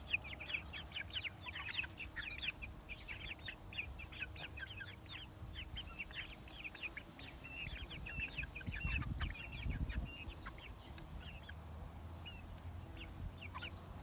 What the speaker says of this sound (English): And then we have the silkies.